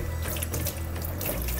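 Tap water running over a preserving jar of poached pears as it is rinsed, a steady close splashing gush filling the whole short moment.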